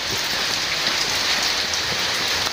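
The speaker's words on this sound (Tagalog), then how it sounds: "Kaso maulan, basa yung sahig." Steady rain pours down near a workshop floor that has gone wet, a dense even hiss of drops with no breaks and no voices.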